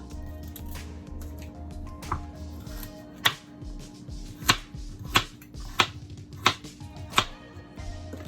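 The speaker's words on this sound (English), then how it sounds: "I'm gonna cut off the carrot. Slice these however you want to slice them." A knife slices carrots on a cutting board, a few soft cuts followed by a run of sharp, evenly spaced chops about one per second, close and clear over a low steady hum.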